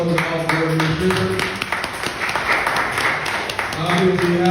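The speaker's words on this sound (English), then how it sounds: "Please, let's give a round of applause." A crowd applauds the outgoing administration at a live-streamed gathering, steady clapping filling the clip at close range with voices mixed in.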